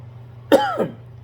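A single hoarse cough from a person recovering from Covid, close by, followed by a short throaty rasp as the breath is drawn back, with quiet background hum.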